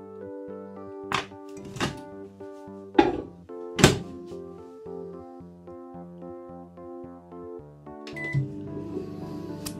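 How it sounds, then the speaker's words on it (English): A microwave oven melting cake ingredients in a jug runs with a steady electrical hum, interrupted by several sharp thunks and clunks nearby, ending with a few beeps. "we're just going to put that in the microwave to melt it"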